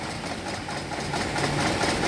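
An engine keeps running after the ignition key is switched off, a steady close rumbling idle with a faint knocking texture, continuous and loud with no talking.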